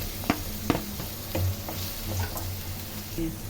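Jackfruit seeds frying in a pan with green chillies and curry leaves, a steady low sizzle broken by a few sharp stirring clicks and scrapes, close and alone with no voices.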